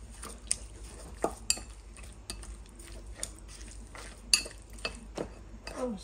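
Pork being mixed with soy sauce and pepper in a bowl, with soft wet stirring and repeated sharp clinks of a utensil against the bowl at an irregular pace, close and quiet.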